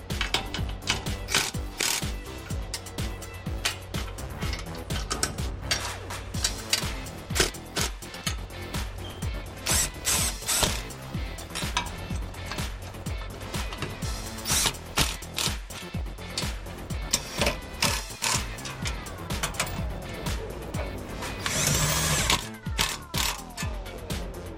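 An impact gun on its lowest setting drives side step bolts into a Jeep Wrangler JK, a rapid ratcheting mechanical hammering in repeated bursts, close and fairly loud, with brief pauses between.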